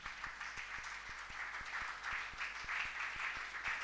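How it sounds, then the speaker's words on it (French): An audience at a local consumption month panel claps steadily on request, a dense wash of applause with a faint regular low tick underneath, moderately distant and without speech. "faites semblant d'applaudir"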